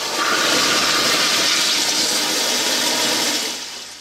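A prison toilet flushing with a loud, forceful rush of water and hissing suction that holds steady for about three seconds before tapering off, heard alone and up close.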